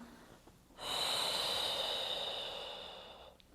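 Deep breathing during a home birth preparation exercise on a ball: one long, strong, airy breath starting after a short pause and slowly fading over a few seconds, close and alone.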